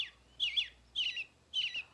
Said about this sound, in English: Let's listen to the robin.